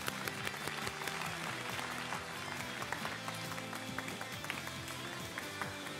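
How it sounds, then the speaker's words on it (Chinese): A studio audience applauds to welcome a professor onto the stage, with sustained clapping of many hands heard at a moderate distance and some music-like tones beneath. "让我们用掌声有请彭木根教授。"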